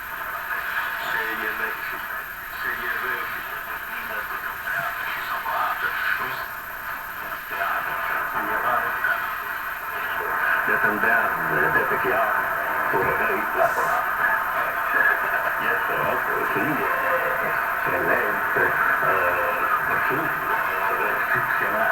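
A shortwave radio broadcast crackles through a Hammarlund SP600 tube receiver, a distant voice buried in hiss and static with a steady noisy hum throughout.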